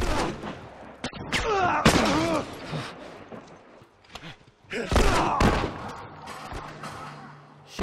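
Scattered gunshots and heavy thuds from a firefight in The Last of Us, loud and irregular, ringing out alongside talking voices and a few quieter gaps.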